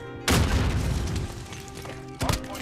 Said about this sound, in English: thank you for the cluster strike